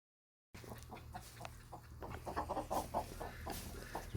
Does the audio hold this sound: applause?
no